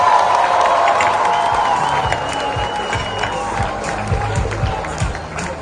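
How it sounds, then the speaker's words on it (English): Audience applause at a closing ceremony for a women's football tour, a loud crowd clapping and cheering that slowly thins out, with scattered shouts and voices mixed in. "Can that applause be resuscitated, please?"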